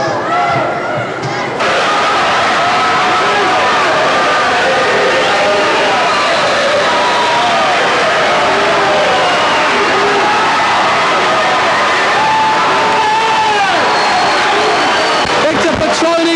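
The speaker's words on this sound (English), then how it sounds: "A very, very noisy crowd standing on their feet." A loud indoor soccer crowd roars and chatters for several seconds during a timeout late in a tight professional game. The babble swells and stays dense throughout, with scattered shouts, thumps and a sharp slam near the end.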